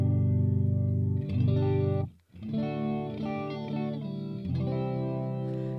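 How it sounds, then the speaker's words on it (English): Electric guitar chords played through a Boss Katana MKII amp with a chorus effect ring out with a shimmering, swirling tone, sustaining between strums with one brief pause, alone without speech. "So that sounds about as high as you want to go with that chorus."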